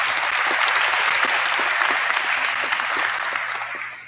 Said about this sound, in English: give Armbrae a round of applause and thank you